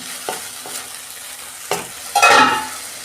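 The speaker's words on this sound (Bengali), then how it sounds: "এবার আমি মশলাটাকে কষাবো ভালো করে" Spice paste sautés in hot oil for a cauliflower, potato and eggplant curry, a soft sizzle punctuated by a few distinct spoon scrapes and knocks against the pan, ending in a louder burst of frying.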